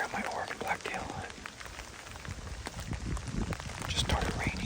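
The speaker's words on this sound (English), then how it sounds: "Just started raining." Rain begins falling outdoors during an Oregon blacktail deer hunt, a steady hissing patter of drops that fills the scene at close range and swells slightly toward the end.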